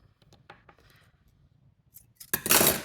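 Scissors snip through embroidery thread during pop art back stitch work, a close, sharp crisp cut near the end following a few faint clicks and light handling rustles.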